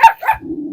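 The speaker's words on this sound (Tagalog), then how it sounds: "Dami nilang alagang aso." Pet dogs bark loudly and close by, giving two quick sharp barks that trail into a brief lower whine.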